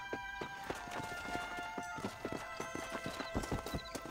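Steady clip-clop of horse hooves at a trot with a brief whinny, from a horse in the Red Dead Redemption video game, fairly close and clear with no talking over it.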